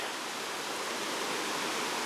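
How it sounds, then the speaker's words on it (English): Ocean waves roll and break on a warm-water Bali beach suited to surfing and boogie boarding, heard as a steady, broad wash of surf with no distinct individual crashes and no voices. "the water is really nice and warm here, and the waves are just wonderful"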